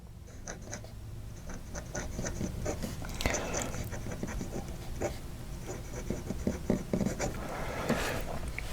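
A Chinese posting nib pen scratches across paper in steady, close strokes, a dry, crisp scraping rhythm with no one talking.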